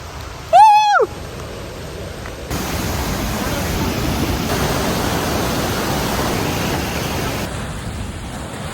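A steady, broadband roar of a waterfall's rushing water at Agumbe in the Malnad hills fills most of the clip, preceded by a brief warbling call near the start.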